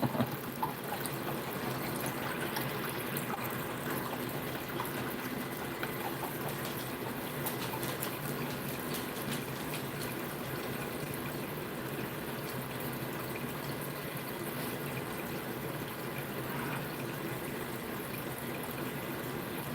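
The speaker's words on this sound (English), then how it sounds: "It's actually relaxing, the sound of the water" Water trickles and pours steadily in a home setting, a continuous soft wash of flow with faint bird-like chirps in the background, no talking.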